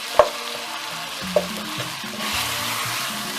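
Sliced red onion frying in a pan for meatball stew, a steady broadband sizzle running throughout with a couple of sharp clacks of a utensil stirring near the start, close and moderately loud with no talking.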